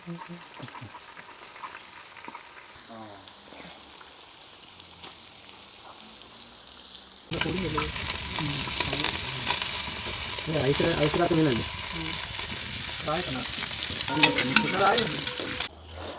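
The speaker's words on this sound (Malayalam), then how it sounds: "നമ്മുടെ മത്തി ഫ്രൈ ആയിക്കൊണ്ടിരിക്കുകയാണ്" Sardines (mathi) fry in quantity in oil at a roadside cooking setup, a quiet sizzle at first, then a loud, dense crackle with stirring clatter and scraping.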